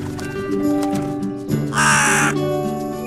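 A cartoon blue raven caws in a few loud, harsh, close calls, with a brief musical background underneath.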